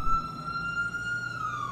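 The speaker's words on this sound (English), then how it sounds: "I can't work the siren as much as I can" A fire truck siren holds a steady high wail in Manhattan, then begins to slide downward near the end, with a low engine rumble underneath; no one speaks.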